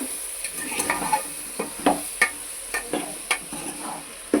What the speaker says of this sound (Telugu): కొద్దిగా ఉప్పు, ఇప్పుడు బాగా మిక్స్ చేసుకుందాం.